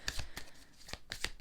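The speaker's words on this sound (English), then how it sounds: "shuffling the cards" Tarot cards shuffled by hand in a quiet room: several short, crisp riffling bursts at an uneven rhythm, close and fairly soft.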